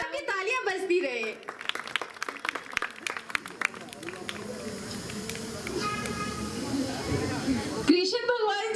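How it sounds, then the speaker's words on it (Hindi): An audience claps in broad, dense applause at a Shri Ram Rajtilak stage event in Chamba, a steady crackling wash that runs for several seconds between stretches of speech. "तालियां बजती रहे"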